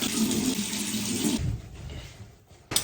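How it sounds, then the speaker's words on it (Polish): Tap water runs into a sink during face washing, a loud steady gush that cuts off abruptly, leaving quieter dripping and splashing before a short burst of water at the end. "myję twarz z tego olejku"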